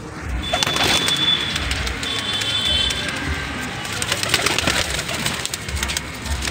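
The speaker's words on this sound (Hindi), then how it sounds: "ये है डब्बाला कबूतर, देखो" About thirty pigeons coo and flutter amid a constant rough, noisy background, with no clear voices, at a pigeon sale in Tanda, Rampur.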